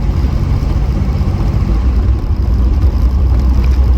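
A Reliant Scimitar GTE SE5a engine with manual gearbox runs steadily at idle, a constant low, close rumble with a slight whir throughout and no voices.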